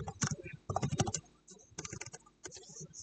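Computer keyboard typing and mouse clicking while working in IDA, close, crisp keystrokes in quick clusters separated by short pauses.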